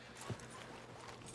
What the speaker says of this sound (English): Rosalina's a big horse, too